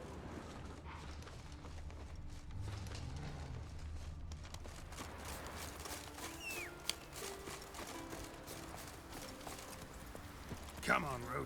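Roach the horse trots in The Witcher 3, its hooves clip-clopping steadily and fairly quietly beneath soft game music, with a voice heard briefly.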